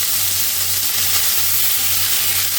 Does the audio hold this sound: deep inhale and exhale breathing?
no